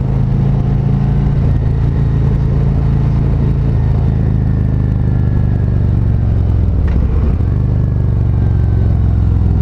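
A 2019 Harley-Davidson Road Glide Special motorcycle rides along with a steady, loud, low engine rumble and wind whir, holding a constant drone with a brief shift in pitch near the end.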